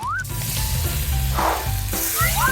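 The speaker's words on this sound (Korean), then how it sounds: "반죽을 아주 조심스럽게 팬에다가 붓고" Pancake batter sizzles in a hot pan with a loud, steady hiss. Brief tonal squeaks, with a soft splash midway, are layered over it. Heard up close without any speech.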